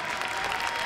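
Crowd at the Crufts dog show agility arena applauding, a short dense burst of clapping and cheering that fills the whole moment.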